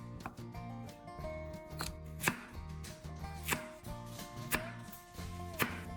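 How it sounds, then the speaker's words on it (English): A kitchen knife chops onions, potatoes and carrots into large chunks on a cutting board, giving steady, close, distinct thunks at an even rhythm. "Cut them into fairly large chunks too."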